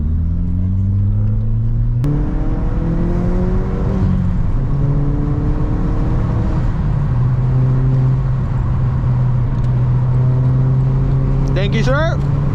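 A Volkswagen MK4 GTI 20th Anniversary Edition fitted with a Neuspeed intake revs up and down repeatedly, its loud, close engine drone rising and falling with intake whooshes and a brief whine near the end.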